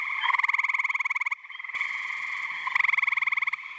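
Great tree frogs call at a pond at night, loud rapid pulsing trills repeating in long bursts with short gaps, nearby and with no other sounds.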